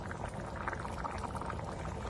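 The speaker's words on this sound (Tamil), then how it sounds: "மிக்சியும் கழுவி கொஞ்சமா தண்ணி ஊற்றிக்கலாம்" A little water poured into a mixer jar while making puttu kadala curry, a steady close splashing pour that runs for about two seconds.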